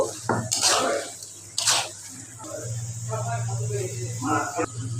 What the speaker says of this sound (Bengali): এবার ভালোভাবে নেড়ে চেড়ে মশলার সাথে গরুর মাংসগুলোকে অ্যাড করে দিব